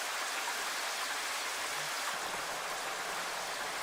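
Synthesized rain, a steady hiss of dense broadband patter with slightly boosted highs, continuous and even throughout with no voices.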